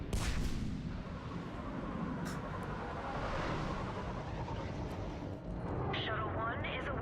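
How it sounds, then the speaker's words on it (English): Ion cannon firing in the video game Mass Effect 3, a deep, rumbling blast with a long roaring tail that stays strong throughout, with brief sharp bursts and a short voice near the end. "Fire the ion cannon."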